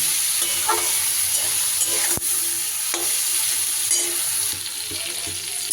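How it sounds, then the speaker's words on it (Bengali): Capsicum being stirred in a pan with spices and amchur powder, giving a steady sizzle with scraping spoon strokes and one sharp clink partway through, close and fairly loud, with no talking. "সব কিছু আমি একটু এইভাবে নাড়িয়ে চাড়িয়ে নেব।"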